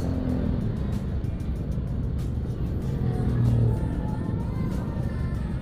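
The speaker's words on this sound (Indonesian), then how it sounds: "ini soalnya banyak banget motor di kanan kiri" Heavy traffic jam of motorcycles and cars in Padaherang, Indonesia, on Takbir night: a continuous, steady rumble of idling and slowly moving engines, with one car swelling briefly as it passes close by.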